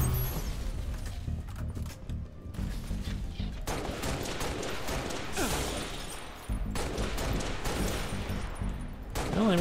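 Halo Reach firefight with DMR and sniper rifles: dense, continuous bursts of gunfire and impacts run throughout, loud and busy with overlapping shots and brief lulls, mixed with game effects.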